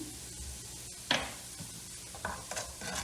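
Spoon stirring salt, black pepper and chili flakes into tomato paste roasting in a pan, soft scraping strokes over a faint sizzle, with a few sharper clinks against the pan.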